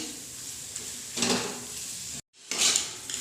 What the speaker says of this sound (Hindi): तो चलिए हम आलू को अच्छी तरीके से एक बार मिक्स कर लेते हैं।